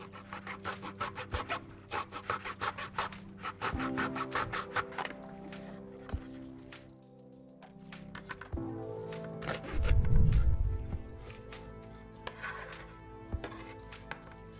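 A small razor handsaw cuts cardboard tubing for a model war boat built from a sardine can, with quick, rhythmic rasping strokes that are close but fairly quiet, then a few heavier scraping passes.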